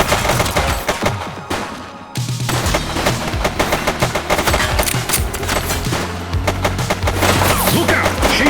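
Dense, rapid gunfire rings out in the police action game The Precinct: loud automatic bursts and overlapping shots, briefly pausing before resuming in sustained volleys under a low musical or engine drone.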